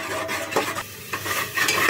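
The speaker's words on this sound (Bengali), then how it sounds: "ভালো মতন মশলাটা কষিয়ে নিতে হবে" Ground cardamom, cinnamon and cumin paste fries in a pan, a close, steady sizzle broken by scraping stirs and soft crackles at irregular intervals, with no talking.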